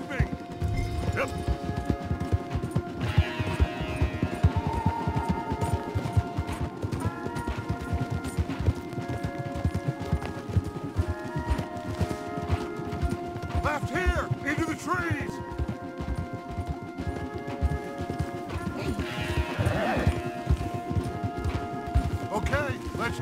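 Horses gallop in Red Dead Redemption 2, a rapid drumming of hooves under a hum of game sound, with occasional voices and a whinny.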